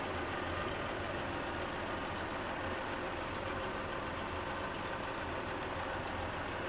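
A rebuilt Honda 40 outboard boat motor, overhauled after water got into its oil, idles during break-in with an even, continuous drone. The engine runs steadily, without changes in speed, and nobody talks.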